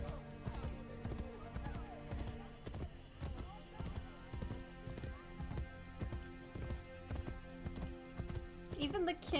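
Horse hooves clip-clopping at a slow, steady pace in Assassin's Creed Brotherhood, a regular rhythm of close hoof falls heard under a person talking throughout, with a brief whinny near the end.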